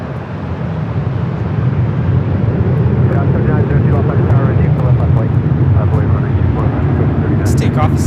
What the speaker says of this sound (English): Let's take off with Southwest Airlines 3265, taking off to Las Vegas on the 737-700.